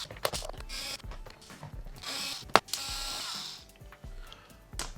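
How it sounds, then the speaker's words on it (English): Small screw being backed out of a Taranis radio transmitter with a hand tool, a run of light clicking, ratcheting scrapes close by, no talking. "Let's find the screw and screw it out."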